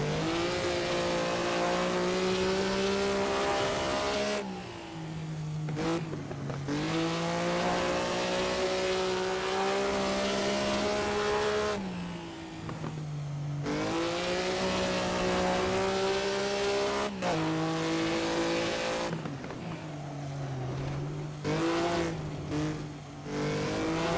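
Late-1950s Grand Prix race cars in a racing video game at Pescara, with a loud sustained engine drone rising and falling through gear changes in repeated cycles, and other cars close by in the slipstream.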